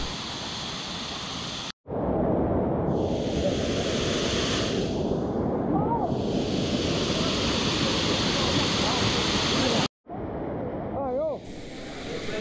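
A waterfall at Kuala Kubu Bharu gushes over rocks in a loud, steady roar, briefly cut by two short breaks, with wind buffeting the microphone and faint voices in the background.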